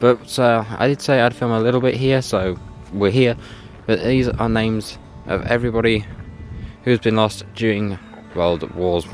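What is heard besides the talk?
None of the usual background noises is heard.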